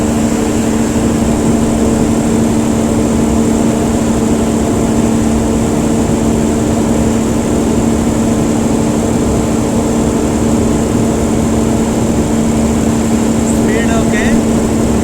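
A Tata 125 kVA diesel generator runs at a loud, steady drone with a strong hum throughout, close by and unchanging, with faint talk buried under it.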